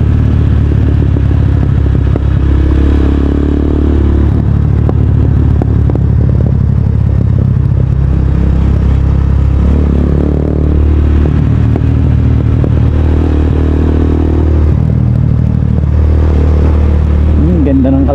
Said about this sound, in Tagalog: Napakagaan talaga na magpatakbo ng motor dito eh.